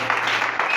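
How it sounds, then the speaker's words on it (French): Church congregation applauding loudly during a Sunday service, a dense, steady wash of clapping that fills the whole moment with a brief lift near the end. "Acclamons très fort pour le Seigneur."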